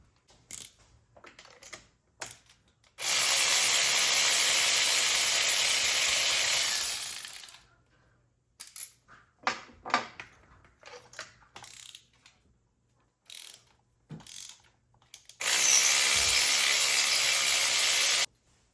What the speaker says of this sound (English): I'm going to switch over to my impact wrench just to speed up the process